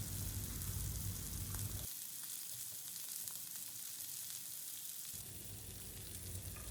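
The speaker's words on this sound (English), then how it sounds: "We'll saute them well on medium flame until they turn golden brown and aromatic." Garlic and minced ginger sauté in a pan over a medium flame, a steady close sizzle and frying hiss that drops quieter in the middle as if stirred or moved off, then returns to full strength.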